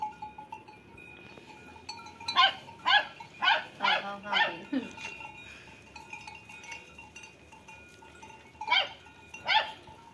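A dog barks in a quick series of about eight sharp barks, then two more after a pause, moderately distant, with faint voices around.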